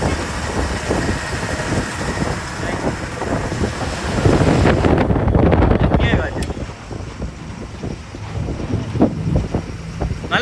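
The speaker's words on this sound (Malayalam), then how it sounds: "നല്ല കാറ്റും ഉണ്ടല്ലേ" Strong wind buffets the microphone during a ride in an open-chassis vehicle, a steady loud roar that swells midway, with voices heard faintly beneath it.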